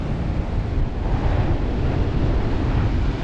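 Ocean waves roll in at Mandarmani beach in a steady, loud rumbling wash of surf mixed with wind buffeting the microphone, continuous and close with no talking.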